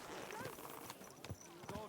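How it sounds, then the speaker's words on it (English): A horse's hooves clip-clopping at a walk in the medieval role-playing game Kingdom Come: Deliverance II, a few irregular, moderately close thuds over game ambience, with speech heard over them. "Is this my horse? Yes."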